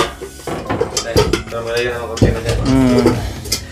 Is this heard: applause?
no